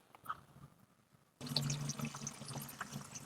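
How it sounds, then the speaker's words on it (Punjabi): Water is poured into a watering can for a garlic pot plant, a soft trickle at first, then a louder, steady splashing fill that continues to the end. "ਆਪਾਂ ਪਾਣੀ ਭਰਨਾ ਸ਼ੁਰੂ ਕਰ ਲਿਆ ਤੇ ਕੈਨੀ ਭਰ ਕੇ"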